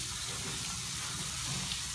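Water sloshing and trickling over gravel in a wheelbarrow that has a hole in it, a steady wash of splashing noise with no break, fairly close and moderately quiet.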